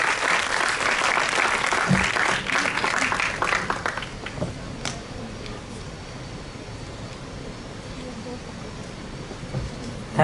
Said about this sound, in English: Can we have a huge round of applause for him, please?